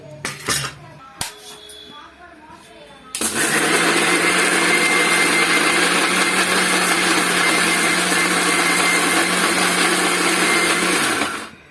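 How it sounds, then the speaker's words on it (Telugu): After a few clicks and clunks, a mixer grinder roars to life and whirs loudly and steadily for about eight seconds, blending onions and spices before cutting out. "ఇవి మొత్తం కలిపి మిక్సీ కొట్టాలి"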